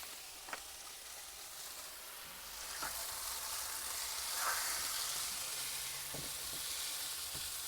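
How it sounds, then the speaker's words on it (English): A beef patty sizzles steadily in a frying pan, an even hissing fry that swells slightly midway, with faint clinks of utensils over the top. "I'm going to put a patty in that pan."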